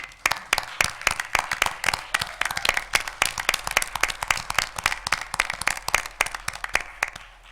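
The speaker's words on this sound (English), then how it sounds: "let us give them a round of applause" Steady applause from a crowd at a city council meeting, dense overlapping claps with sharper individual hits standing out, fairly close and sustained throughout.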